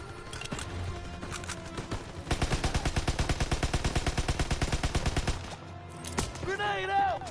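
Rapid automatic gunfire from a Call of Duty WWII match rattles in a sustained burst of evenly spaced shots lasting about three seconds, loud and close, with scattered single shots before it and a voice speaking near the end.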